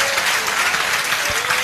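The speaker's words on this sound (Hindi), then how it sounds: "क्या हम खुदा उनको ताली दे सकते हैं?" A church congregation claps in steady, dense applause filling the whole short moment, loud and close, with no voices standing out.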